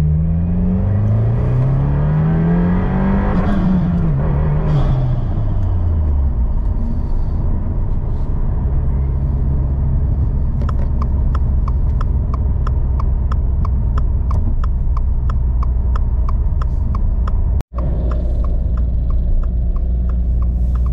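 A tuned 2022 Subaru WRX pulls hard at full throttle in second gear, its loud engine note climbing and falling through revs. Rapid rhythmic ticking follows, with a brief dropout near the end.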